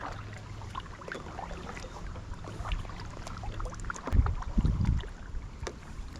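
Kayak paddle strokes splash and swirl in lake water while bass fishing, with low sloshing and a louder burst of splashing near the end over steady wind noise.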